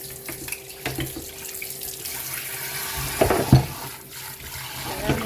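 Strong water gushing from a kitchen tap into a sink while cornmeal porridge is prepared, a steady splashing rush with a few louder surges and clinks partway through.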